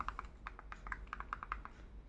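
Keys clack in a quick, uneven run of a dozen or so close taps as someone types on a keyboard while searching for the OTT Play app on an Android TV, with no voices.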